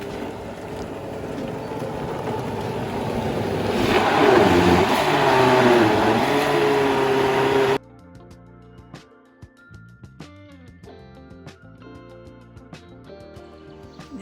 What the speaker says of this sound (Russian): Бросаем в блендер. У меня 250, по-моему, ватт мощности.